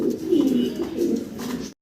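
Black Lahori pigeons coo in a steady, close, low murmur that holds for under two seconds and then cuts off.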